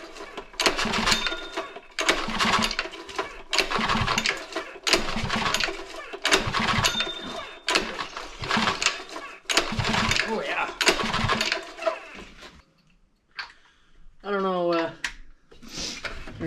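A Honda GX120 engine on an air compressor, with no compression and fuel-soaked rings, cranks in about eight loud, rhythmic bursts. Short pauses separate the pulls before a brief rising whine near the end.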